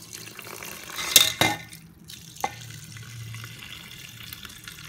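Butterfly pea flower water is poured into a pot of rice, giving a short splash and trickle of liquid with a couple of clinks, fairly quiet and close, with no speech.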